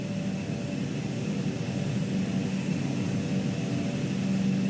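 An ATR turboprop airliner in Microsoft Flight Simulator 2020 begins to taxi, its engines giving a steady, even propeller drone and whir with no talk over it.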